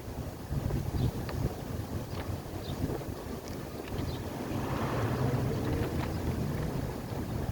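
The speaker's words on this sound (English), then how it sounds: "kind of windy" Steady wind rushes and buffets against the microphone, a broad continuous roar that swells slightly in the second half, with no voices.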